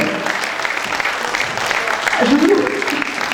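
Audience at a variety show at the Casino de Dieppe applauding loudly, a thick continuous roar of clapping with voices and cheering mixed in, swelling slightly toward the end.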